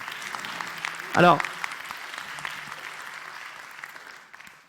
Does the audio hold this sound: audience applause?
yes